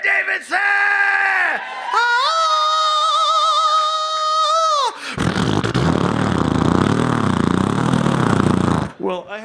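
A voice mimics a motorcycle engine with rising, revving vocal tones, then a roaring, growling stretch, loud and close over crowd reaction.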